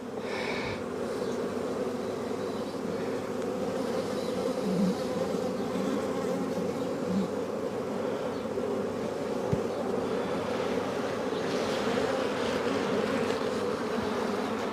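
Honey bees hum in a steady, dense drone over an open beehive during a frame inspection, close and continuous throughout with only faint handling noises.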